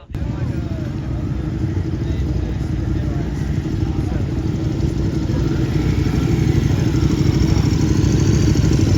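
Several motorcycle and car engines idle and rumble at a rainy cars-and-coffee meet, making a steady low drone that builds slightly over time, with a murmur of voices underneath.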